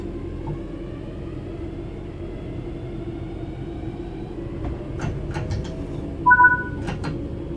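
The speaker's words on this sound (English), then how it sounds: "Let's get the train moving and see it all working." A train in the Train Sim World 4 simulator rolls forward under player control, giving a steady low rumble with faint rail clicks, a couple of brief squeals, and a short tonal horn-like beep near the end.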